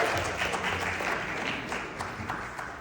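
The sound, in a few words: audience applause for Dr. Lilian Cavalheiro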